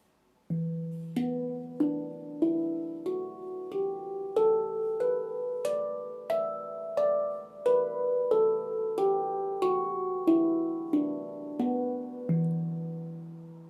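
A handpan in the E Amara minor scale rings out, single struck notes climbing steadily then descending, each note resonating and overlapping the next.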